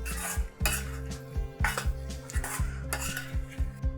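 Kesari made from Mappillai Samba rice flakes, with cashews and raisins, is stirred in a pan by a metal spoon that clinks and scrapes in a repeating rhythm, close by and alone with no talk.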